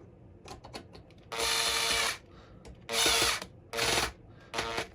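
A power drill snugs up scale bolts on an RC rat rod crawler with 3D-printed parts, firing four loud whirring bursts of about a second each, separated by small clicks and handling noises.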